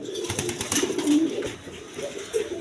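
A pair of Rasgolla pigeons coo in soft, low repeated notes at close range, with a few brief rumbling calls standing out over faint background chatter and noise.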